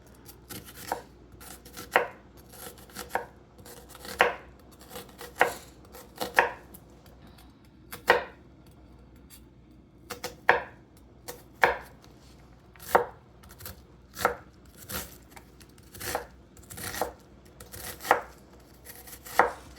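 A knife chops a white onion on a board in a series of crisp, separate thuds, spaced irregularly and falling about once a second, close and fairly quiet, with no talk.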